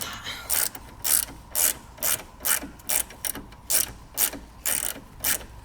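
A ratchet wrench turns drop link nuts on a Citroën C1, giving about a dozen sharp, close clicking bursts in a steady back-and-forth rhythm, with no talking.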